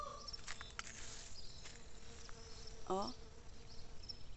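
Insects such as bees buzz faintly in wet countryside after rain, a soft continuous drone with small ticks and a brief chirp, while a person briefly speaks nearby.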